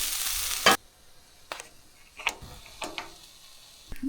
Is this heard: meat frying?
yes